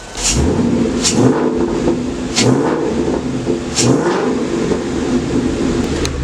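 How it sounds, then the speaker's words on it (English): A Ford Mustang 5.0 V8 fitted with a BBK cold air intake revs repeatedly, loud and close, with a rough throaty burble and several sharp throttle blips rising and falling. "I'll go ahead and give you guys a couple of revs so you guys can hear it."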